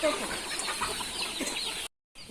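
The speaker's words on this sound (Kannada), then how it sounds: "ನೂರೈವತ್ತು ಕೋಳಿ ಇದೆ ಮರಿ ಕೋಳಿ ಎಲ್ಲ ಸೇರಿ" Giriraja and country-breed chickens cluck and murmur on a farm, a soft, busy chorus of short calls from nearby that briefly cuts out near the end.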